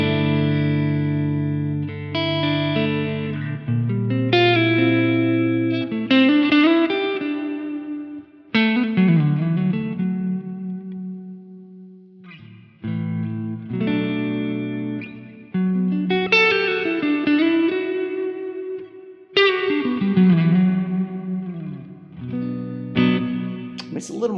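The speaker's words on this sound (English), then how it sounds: "it's a very nice sounding reverb." Electric guitar through a Quad Cortex using the Nolly X plugin, playing chords and short phrases, each ringing out with a lush, spacious reverb tail that lingers between notes.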